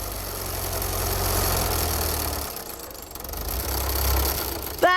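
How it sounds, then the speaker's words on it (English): A tractor engine runs steadily while pulling a stuck truck on a rope at a building site, a loud, continuous, rough low rumble with slight shifts in load and no talking. "while Farmer Stubble took a turn in the tractor, Dig tied the rope to the truck"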